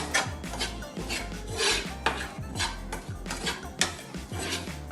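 Cumin, pepper and ground coriander dry-roasting in a pan for a Kerala-style beef curry, with a steady scraping and rasping stir and occasional metallic clinks from the pan.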